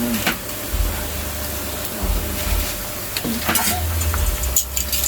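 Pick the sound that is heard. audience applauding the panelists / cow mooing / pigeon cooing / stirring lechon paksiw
stirring lechon paksiw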